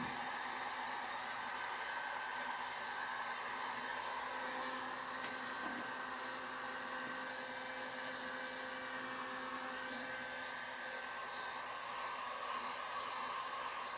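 Steady, continuous blowing hiss of a heat gun warming carbon-fiber vinyl wrap on the lower door panel of a 1966 Nova, running evenly and close throughout with no pauses.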